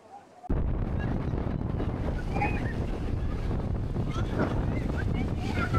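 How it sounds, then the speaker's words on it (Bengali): Rough sea off Kuakata under cloudy skies, with strong currents, surging waves and wind buffeting the microphone, a continuous loud rumble and wash that starts abruptly, with faint voices in the background. "সমুদ্র এখন ভয়ঙ্কর, তার আসল রূপ দেখাচ্ছে। প্রচুর স্রোত"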